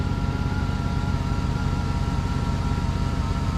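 A car engine with about 300,000 miles and no tune-up idles right after starting, a steady, close, even rumble with a regular pulsing beat and no talk.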